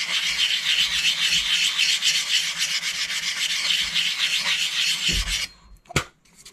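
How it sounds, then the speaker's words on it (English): 400 grit sandpaper rubs over the metal head of a dollar store axe in a steady, close, continuous rasping scrub that stops near the end, followed by a single thump. "All right, so I got some 400 grit sandpaper here. Just gonna take that to the metal,"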